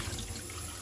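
Tap water running into a sink as a paintbrush and water cup are rinsed clean of glue and soap, a steady close splashing flow without any talk.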